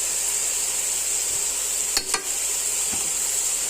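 Chicken pieces frying in a pan with a steady, even hiss throughout, broken by a couple of brief clinks of a spoon or spatula.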